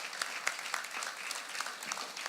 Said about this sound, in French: On peut les applaudir, très sincèrement.